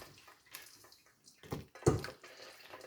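Chicken soup stock poured through a colander into a bowl underneath, giving a brief splashing gush of liquid with some clattering, quiet and close, with softer trickles around it.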